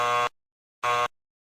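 A process-control simulator's low-limit alarm gives two short, loud buzzer tones, each lasting about a quarter second with a brief gap between them, and nothing else is heard.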